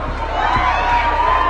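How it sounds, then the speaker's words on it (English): A studio audience making a sustained, loud, continuous booing roar from many voices together, with no individual words. "We keep booing."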